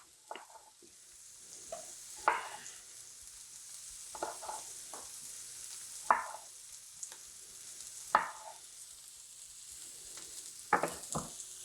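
Sliced onions fry gently over lowered heat in oil, giving a soft sizzle punctuated by intermittent scrapes and clinks of stirring, fairly quiet and close.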